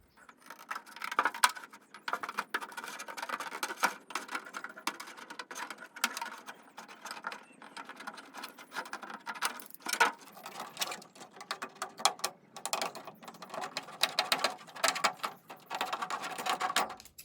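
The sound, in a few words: scissors with jagged edge cutting RC truck body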